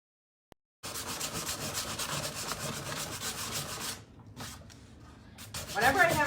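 Black wax worked by hand into painted furniture, a steady close rubbing and scrubbing that runs for several seconds, then eases into softer, slower strokes.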